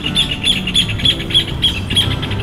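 A small bird sings close by, repeating bright, evenly spaced chirps in a steady rhythm, loud and clear against a soft background murmur.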